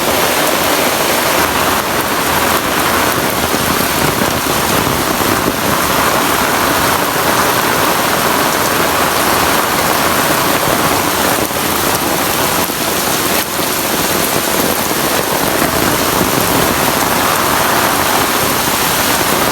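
Heavy rain pours steadily onto an open dirt area during a sudden village downpour, a dense, loud, continuous hiss of drops hitting the ground that stays unbroken throughout with no voices.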